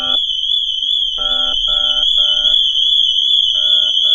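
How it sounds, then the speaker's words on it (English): A car alarm blares on a rebuilt McLaren, a steady high-pitched electronic tone joined by pulsing harmonic bursts in repeated groups, loud and close throughout with no talking. "Why is the alarm going off?"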